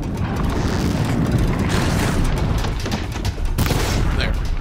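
Dense, sustained roar of explosions and rumbling blasts in the Horizon Zero Dawn video game as a strider machine's canister is blown up, loud and continuous with crackling bursts throughout.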